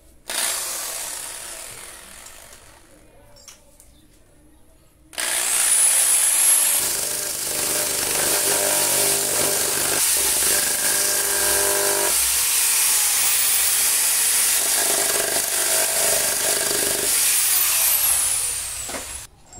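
An electric sander grinds away parts of a Semp LED TV screen being fitted to an AOC 32S5195 television. A loud, steady, rasping whir starts after a few quiet seconds and runs on without talk.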